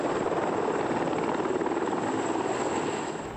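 A CH-53 helicopter flies over a research airport, its rotor making a loud, steady, pulsing thump with a turbine whine above it. The noise holds constant and eases off slightly at the very end, with no talking.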